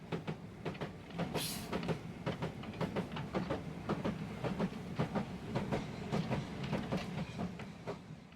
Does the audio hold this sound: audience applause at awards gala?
no